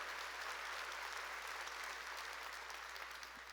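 Applause from a church congregation during a Sunday worship service, steady and sustained for a few seconds, with dense clapping that fades slightly toward the end and no talking over it.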